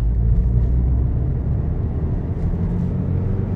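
Alfa Romeo Giulietta 1.4 T-Jet 120 hp accelerating in third gear in Dynamic mode, a dense low engine drone with strong rumble throughout, steady and loud with no voices over it.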